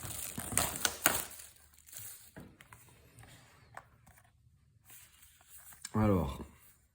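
A newly bought Mediabook film edition is unwrapped with scattered plastic crinkles, rustles and small crunches, close and fairly quiet. The sounds come in irregular bursts, with a louder crackle near the end and someone talking between them.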